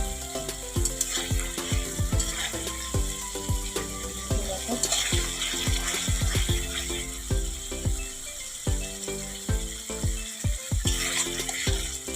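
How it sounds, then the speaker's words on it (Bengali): Water is poured into a pan of black mustard spice paste frying for a Bengali katla fish dish, setting off a loud, dense, continuous crackling sizzle up close. "ভালো করে একটু নাড়াচাড়া করে জল দিই"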